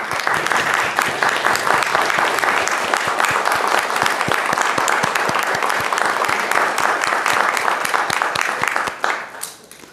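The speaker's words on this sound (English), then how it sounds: "Students, will you please rise and give a round of applause to those who've joined you here today?" Graduating students at a 2023 MALS graduation ceremony give a sustained round of applause for their guests, a dense, loud wash of clapping from a large crowd that holds steady for about nine seconds before tapering off.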